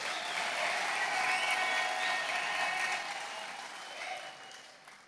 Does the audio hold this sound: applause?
yes